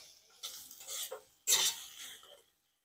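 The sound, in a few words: tempering mustard greens with ghee in a pan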